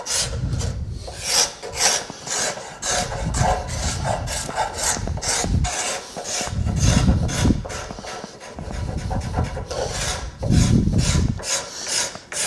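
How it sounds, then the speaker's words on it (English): Card scraper scraping curly wood in a workshop, rhythmic rasping strokes in repeated bursts about a second apart, close and fairly loud, with no voices. "Just keep rolling the card scraper."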